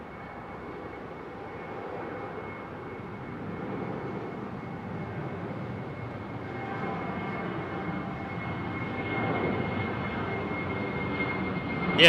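An Emirates Airbus A380 at London Heathrow taxis in to a gate, its engines giving a steady, broad roar that swells slightly toward the end, heard alone without talk.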